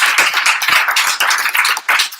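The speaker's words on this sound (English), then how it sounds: "If everyone can please give Kerry and Richard a round of applause." An audience applauding a pair of speakers at a business talk, dense close clapping that carries on steadily throughout.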